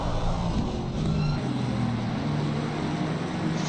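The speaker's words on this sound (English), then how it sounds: "That engine sounds amazing." A race car engine roars steadily in the Assetto Corsa Competizione sim, during a 3-hour endurance race at Misano. The drone holds loud and continuous, with gear-change shifts in pitch and no voices.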